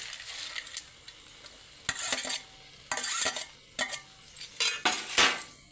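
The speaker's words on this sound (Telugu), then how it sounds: "ఇప్పుడు నేతిలో ముందుగా వేయించి పెట్టుకున్న బాదం పప్పు కిస్మిస్లు జీడిపప్పు వేసుకుంటున్నాను" Ghee-fried almonds, raisins and cashews are stirred into bread halwa in a pan, with a soft sizzle under intermittent spoon scrapes and clinks that come in short bursts.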